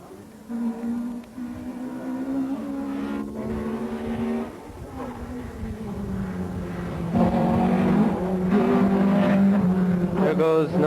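Rally cars in the 1984 Cork 20 Rally race up a hill, engines droning and rising loudly as they near and pass, with a commentator talking over the roar throughout.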